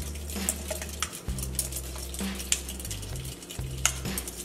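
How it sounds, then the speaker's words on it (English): A utensil stirs a seasoned mixture in a pot, with scraping and clinking against the pan in irregular strokes, close and fairly loud, with no talking. "You keep stirring it."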